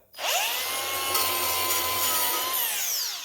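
A power grinder working along the steel edges of a trailer during cosmetic repairs, one loud continuous whining grind that rises in pitch and holds steady for a few seconds, close and alone.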